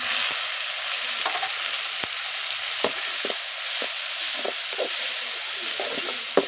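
Chopped tomatoes go into a pan of onions sautéing for a potato chapati filling, giving a steady close sizzle and hiss with occasional soft stirring taps and no talk.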